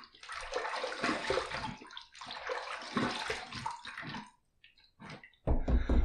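A titanium razor is rinsed under running tap water, two splashing gushes of a couple of seconds each followed by a few drips and a final louder burst of water, close by with no talking.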